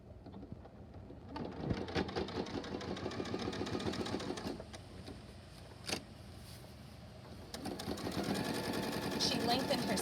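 A home sewing machine top-stitches a pillowcase, its fairly quiet, steady run of stitches going under a person talking throughout.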